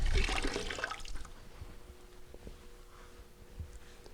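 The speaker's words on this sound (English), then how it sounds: "Just keep rinsing your sponge fairly often." A grout sponge is rinsed in water while a single cracked floor tile is being replaced. A near splashing, sloshing burst comes first, then settles into a faint, quiet trickle.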